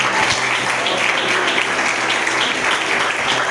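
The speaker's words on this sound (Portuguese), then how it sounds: "Dá uma salva de palmas aí pro nosso Deus." A congregation applauding during a church sermon, a dense, steady wash of many hands clapping at once, loud and continuous throughout with no pauses.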